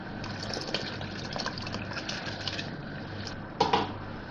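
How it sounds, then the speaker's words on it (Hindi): 750 grams of soaked rice go into a pot of boiling water for mutton biryani, giving a steady gushing, bubbling wash of water with a sharper splash near the end, close and without talk. "अब इसमें उबाल आ गया, मैं चावल डाल रही हूँ।"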